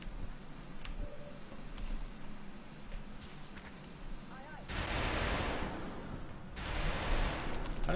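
Suppressing gunfire in a tactical video game set around a crashed medium UFO comes as two loud bursts of rapid shots late on, after a quieter stretch of faint ambient noise and small clicks.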